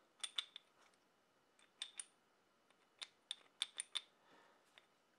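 Small mount screws on a Sightmark Wraith digital night vision sight are unscrewed, producing faint, sparse metallic clicks and ticks in short irregular bursts against near silence.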